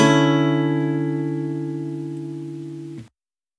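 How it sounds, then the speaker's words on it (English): A sustained, bright major ninth chord with many stacked tones rings steadily for about three seconds, then cuts off abruptly. "In the case of a major 9th chord,"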